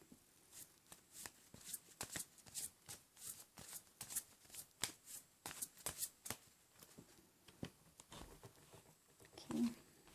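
Past life oracle cards being shuffled by hand: a quiet, steady run of soft riffling slaps and taps, with no one talking.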